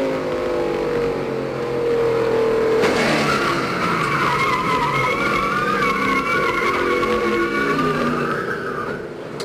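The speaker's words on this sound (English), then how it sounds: "Take a look from Mark Martin's view. Stretch after he was solidly hit" Skidding race cars during a crash at a 1998 NASCAR Cup race at Michigan, with loud tire squeal and engine roar. A long screeching slide rises in pitch partway through and continues steadily over the roar of the cars.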